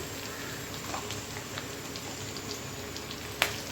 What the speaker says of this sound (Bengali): শুধু ক্যাপসিকামটাকে কেটেছি, আলুটাকে কেটেছি আর ভাজা করছি